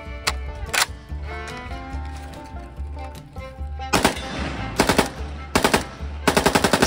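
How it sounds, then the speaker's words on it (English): Loud semi-automatic .357 Magnum gunfire in a video game, heard as bursts of sharp shots in quick succession over music-like background sound, with the shots clustering toward the end. "This is a Kunin 357 Magnum, a semi-auto 357 Magnum"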